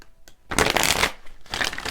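A deck of tarot cards is shuffled up close, producing loud, dense papery riffling in two bursts separated by a brief pause, with no one talking.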